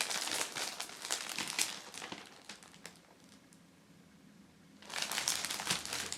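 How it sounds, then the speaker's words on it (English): Clear plastic packaging around a 1 kg traditional Italian Pandoro cake crinkles loudly up close in bursts as it is turned, with a quieter pause in the middle before the crackling returns. "So just rotating it around so you can see the details as it is in its clear plastic packaging."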